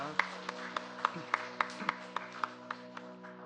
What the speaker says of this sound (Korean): 다시 한번 귀한 찬양, 은혜로운 찬양 들려주신 찬양대인 격려의 박수를, 하나님께는 영광의 박수를 드리겠습니다